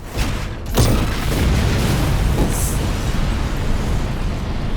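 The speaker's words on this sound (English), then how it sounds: "That's a hell of an explosion." A big explosion in the Tekken 8 video game lands as a deep, loud boom with a sharp burst near the start, then rolls on as a sustained rumbling roar of fire and debris with no voices over it.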